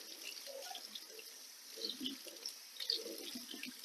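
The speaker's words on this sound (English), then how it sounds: "So I've got a fine mesh strainer here, and I've just dumped these in here, and just fresh, cool water." Cool tap water runs steadily over soaked nuts in a fine mesh strainer at a kitchen sink, a soft continuous splashing with a few brighter drips and swells, fairly close and with no talking.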